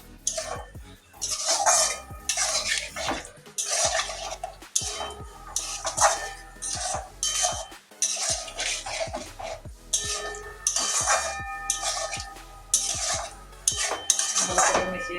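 A spoon stirs yogurt and pointed gourd in a metal pan, producing repeated close scraping and clinking strokes in an irregular rhythm, with no talking.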